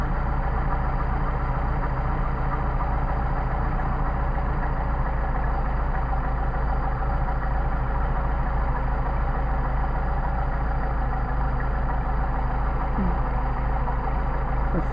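A Mercedes 190SL engine idles steadily during carburetor adjustment, a constant close low rumble with an even pulse and no speech.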